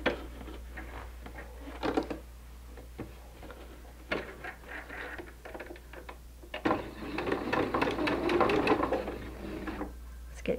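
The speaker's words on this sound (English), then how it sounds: "you will be sewing 1/4 inch on either side of the line" A sewing machine stitches quilt fabric 1/4 inch either side of a line for pinwheel blocks, giving a quiet, rapid mechanical ticking that comes in short runs and swells into a longer, denser burst near the end, under a low steady hum.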